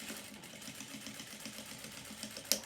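A sewing machine stitches a second seam line on a cloth face mask, a faint, rapid, steady whir ending with a small click.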